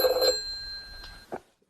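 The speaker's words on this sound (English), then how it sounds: "the phone should be ringing about now" An old landline telephone rings after dialing tones, with a short electronic ring pattern of steady tones that fades out, followed by a brief click near the end; no talking.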